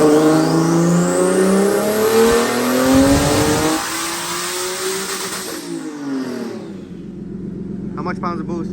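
Nissan 370Z with a single-turbo setup on a dyno: a loud engine climbs in a long rev through the gears, then drops off and settles to an idle with a brief whistle, people talking over it.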